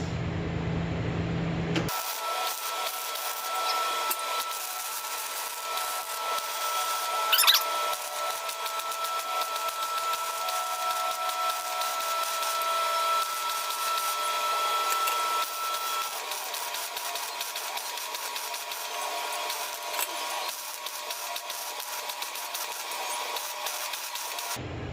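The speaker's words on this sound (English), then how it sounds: "I'll bring it back when I lay down about another 5 pounds of welding wire." A cracked exhaust manifold on a Jeep 4.0L is welded with wire, giving a steady, close, crackling hiss that starts abruptly and runs almost unbroken for over twenty seconds before cutting off, with no talking.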